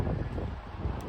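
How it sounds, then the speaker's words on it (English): Wind buffets an outdoor microphone in Scotland with a steady low roar, gusting throughout and nothing else heard. "sorry, the wind"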